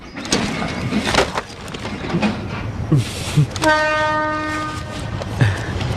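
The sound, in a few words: train arriving at station, cartoon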